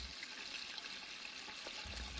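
Water runs continuously in a video game, a steady hissing splash and trickle at even, moderate level with no pauses.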